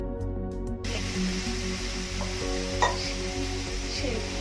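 Washed ridge gourd peels drop into a hot wok, sparking a quick burst of sizzling that continues steadily, broken by a clear scrape of stirring partway through, with no speech.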